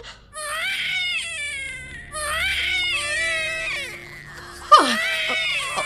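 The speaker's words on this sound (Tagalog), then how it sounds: "May naririnig akong mga iyak ng sanggol." A newborn infant cries loudly and close by in rising, wailing bursts with short gasps between them, and the last cry breaks into a sharp higher shriek.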